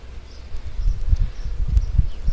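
Honey bees hum and buzz in an open hive during an inspection, a low droning texture with soft thumps and rustles of handling, close and steady.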